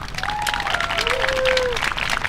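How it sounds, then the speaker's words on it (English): A crowd applauds a panel at a Higher Education Day of Action event at UHM, with dense steady clapping at moderate loudness and a few whistles and tonal calls rising over it. "Everybody, let's just give a round of applause for our panel."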